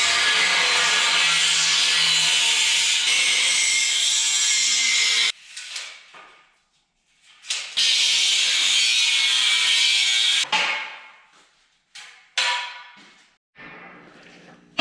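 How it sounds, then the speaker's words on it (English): Workbench legs being cut from metal tubing, heard as long, loud, harsh continuous cutting passes separated by brief pauses with clanks and rattles of the workpiece. "Now it's time to cut out the legs."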